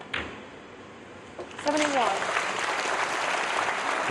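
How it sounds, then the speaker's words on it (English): A snooker crowd applauds frame ball in a match between Ronnie O'Sullivan and Wu Yize. A few quiet knocks come first, then a voice announces a score, and warm, sustained clapping swells up and carries on to the end. "The crowd acknowledging frame ball."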